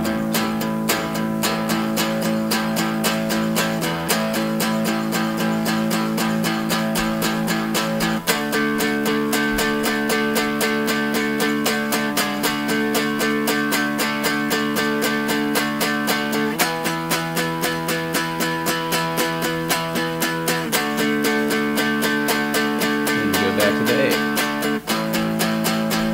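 An electric guitar plays a beginner rock riff, steady rhythmic strummed chords repeating in sections with occasional chord changes, close and even in loudness throughout.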